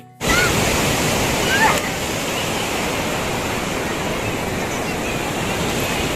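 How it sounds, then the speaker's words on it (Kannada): Sea waves wash onto a clean beach at Kasaragod, a loud, steady broadband roar of surf running continuously and filling the scene, with no break in the rushing water. "ಈ ಸಮುದ್ರದ ಅಲೆಗಳು ಬರ್ತದಲ್ವಾ ರಿಟರ್ನ್ ಹೋಗ್ತಾ ಕಾಲನ್ನ ಎಳಿಯತ್ತೆ"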